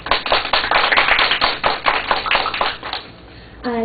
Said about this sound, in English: So maybe we can give them a round of applause to say thank you for your work.